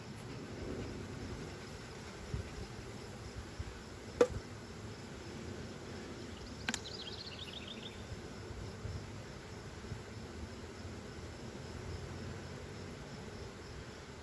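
Honey bees buzz in a faint, steady drone during a hive inspection and split, with a couple of sharp clicks partway through.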